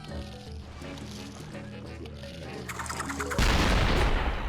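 A Doom-shroom plant in Plants vs. Zombies 2 detonates with a loud, broad explosive burst that swells and holds near the end, following lively game music and effects.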